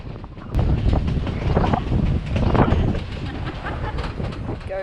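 A Durango and Silverton steam train in Colorado runs past, giving a steady loud rumble and clatter heard up close, with gusts of wind buffeting the microphone throughout.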